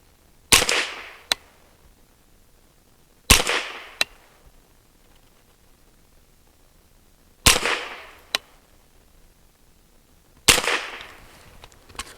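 Four sharp rifle shots from an MBGL Goat-15 firing waxed bullets, spaced a few seconds apart. Each crack is followed by a quick echo or secondary snap, and the rest is quiet.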